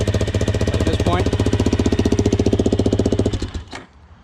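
A Suzuki LTZ400 ATV engine runs loud and close with a steady, rapid chugging pulse, then cuts off abruptly near the end and falls quiet.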